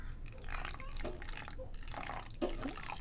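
Water trickles and drips into a bowl holding potato at a kitchen counter, a soft, close, uneven splashing pour that runs for about three seconds with no talk.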